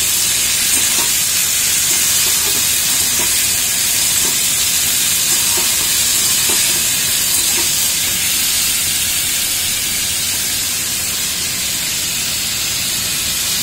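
Potatoes stirred with a spatula in a hot pan for a quick potato and egg dish, a steady loud sizzling hiss with faint scraping taps of the spatula throughout, no voices.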